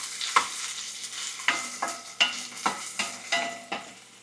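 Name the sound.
onion frying and being stirred in a pan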